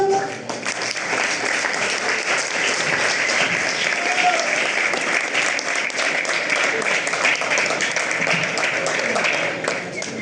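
An audience at a forum on sustainability challenges for monogastric livestock in Venezuela claps steadily and loudly to welcome a speaker, a dense continuous applause lasting the full stretch without pause.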